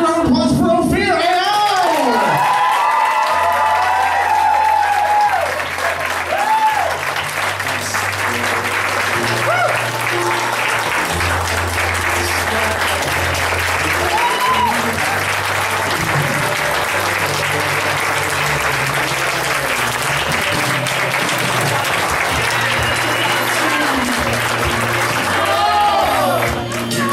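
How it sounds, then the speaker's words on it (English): A comedy roast audience breaks into sustained, loud applause with scattered cheers, dense clapping filling the room steadily and without pause for nearly half a minute while music plays underneath. "Ladies and gentlemen, give a round of applause for Ofir Eyal!"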